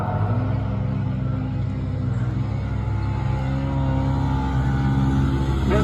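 UTV racing engines rumble steadily on the final lap of a race at a monster truck show, a loud, continuous drone with no clear passes.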